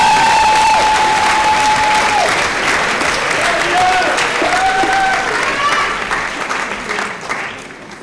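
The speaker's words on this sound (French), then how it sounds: "Et j'accueille sous un tonnerre d'applaudissements la dernière avocate de la défense, Maître Ségolène Fourche." Loud, sustained applause from an audience, clapping continuously and slowly fading toward the end.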